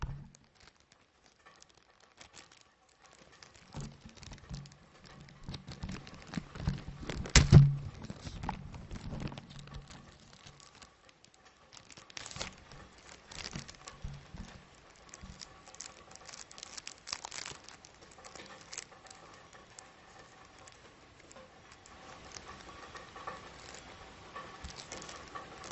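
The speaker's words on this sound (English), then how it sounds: "Let me unwrap the cigar 1 second." A torpedo cigar is unwrapped from its wrapper. Faint, irregular crinkling and rustling stretches over many seconds, with a louder crackle near the middle and scattered soft handling noises after it.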